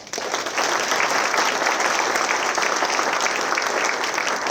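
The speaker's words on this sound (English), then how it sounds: "please join me in a round of applause again for all our 2025 awards winners" Sustained applause from a dinner audience at an alumni awards event honoring 2025 award winners, dense steady clapping close by, filling the room from start to finish without a speaking voice over it.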